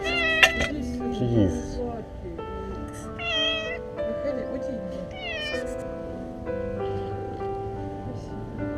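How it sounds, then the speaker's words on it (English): A cat meows repeatedly in plaintive, rising cries, close and fairly loud, with a steady tonal hum underneath. "The cat was crying for help"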